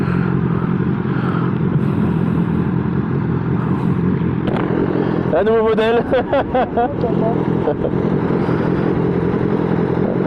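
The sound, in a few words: BMW S1000R motorcycle with SC exhaust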